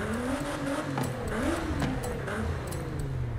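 Nissan GT-R engine revving in the Forza Horizon 5 video game, a steady loud drone with small pitch swoops and one short rising sweep in the middle, with no voices.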